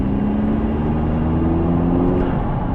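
Remapped Audi TT Mk3 2.0 TFSI quattro with a stage 1 tune pulls hard through a tight corner, its engine holding a steady, loud drone with a slowly rising pitch throughout, heard from close by with no talk.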